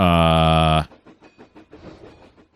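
In the video game Trainz 2019, a loud, harmonic train whistle blares and then cuts off. A rhythmic clickety-clack of wheels on rails follows and repeats steadily.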